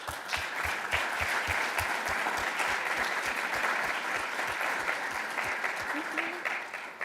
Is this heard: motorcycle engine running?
no